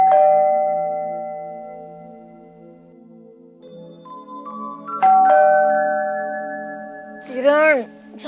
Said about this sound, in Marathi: बेल वाजतीये